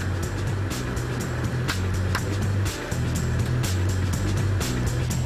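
A Range Rover Sport HSE creeping down a steep off-road slope under hill descent control, with a low steady engine drone, crunching and knocking from the terrain, and a brief dip midway.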